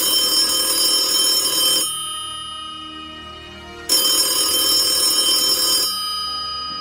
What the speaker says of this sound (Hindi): फोन की घंटी बजी